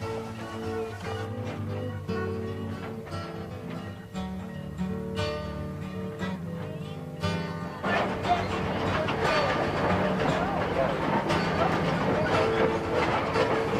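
A Mt. Rainier Scenic Railroad train rolls along its tracks, shifting from a steady tonal hum into a louder, dense rumble of wheels and cars that fills the later half.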